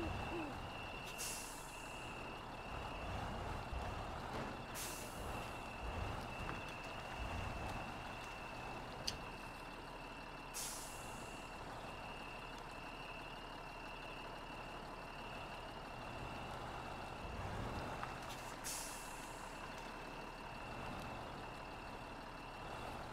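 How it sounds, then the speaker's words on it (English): Repair truck in the Spintires: MudRunner video game, engine droning steadily throughout with a faint high whine, punctuated by four sharp hissing air-brake releases spaced several seconds apart, no talk. "So I'm bringing this repair truck over."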